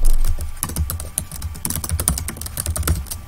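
Fast, uneven typing on a computer keyboard while writing code, a close, busy patter of key clicks and taps with brief pauses, heard alone without talking.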